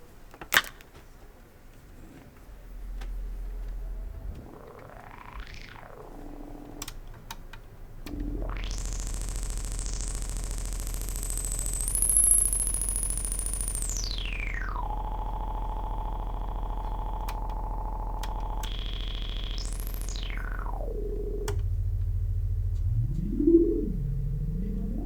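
A Radikal Technologies Delta CEP A synthesizer with a filter patched in an unusual way produces a sustained electronic tone that sweeps up to a shrill high whine, holds there, then slides down in pitch, with lower warbling glides before and after.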